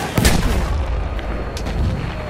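A grenade bursts in Battlefield 1 with a single loud, close boom right at the start, followed by a rumbling battlefield wash and distant crackling gunfire.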